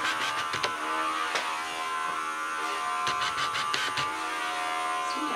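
Electric dog clippers fitted with a one comb run down a short-legged terrier's coat, making a steady, close, high-pitched buzz with small bumps in pitch and scratchy contact as they pass through the fur.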